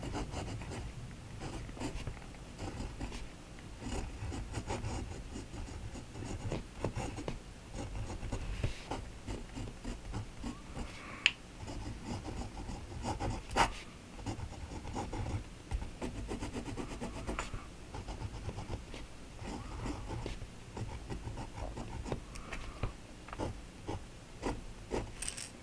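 An extra fine nib fountain pen writing on paper, producing faint, close scratchy strokes with small taps and pauses, quiet and continuous across the whole stretch.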